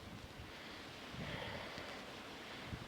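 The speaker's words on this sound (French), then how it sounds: "alors c'est un petit vent doux." A gentle wind blows outdoors with a steady soft rush and low buffeting against the microphone, continuous and fairly quiet.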